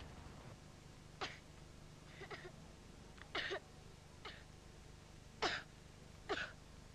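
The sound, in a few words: child coughing at night in a TV advertisement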